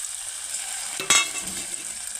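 Eggs sizzle and fry in a pan over browned onions with tender tamarind leaves, a steady soft sizzle with one brief louder crackling burst as they hit the oil.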